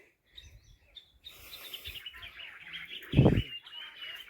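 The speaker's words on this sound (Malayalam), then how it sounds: "കുറേ പക്ഷികളൊക്കെ ഉണ്ടല്ലേ" Light bird chirps and tweets scattered in the background of a forested hilltop at 3500 feet, faint and distant, with a brief louder thump partway through.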